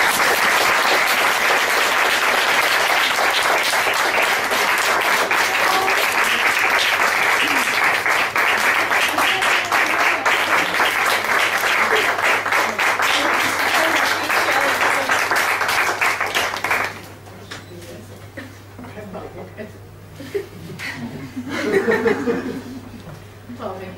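Audience at a music theory conference in Belgrade applauding after a talk, dense sustained clapping for about seventeen seconds before thinning out into scattered claps, low chatter and a few chuckles.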